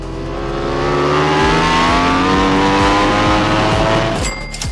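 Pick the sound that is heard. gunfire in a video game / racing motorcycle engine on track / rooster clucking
racing motorcycle engine on track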